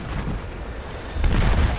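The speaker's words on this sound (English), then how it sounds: "That was another plane crashing." A plane crashes in a Battlefield video game: a loud, dull boom swells over rumbling game noise partway through, heavy and close, with no speech.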